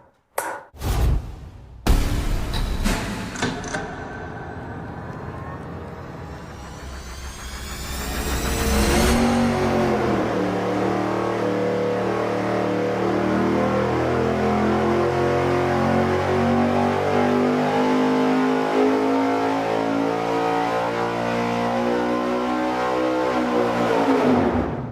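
A V8 test engine on a dyno, fitted with a larger throttle body, cranks with sharp pops, fires and revs, then settles into a loud, sustained full-throttle pull with rising harmonics, alone with no talk.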